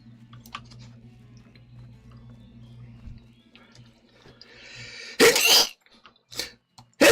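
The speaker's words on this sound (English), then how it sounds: "Sneezes. Banish all sneezes." A single loud, sharp sneeze bursts out close to the microphone over a quiet background hum, followed by a couple of smaller breathy noises.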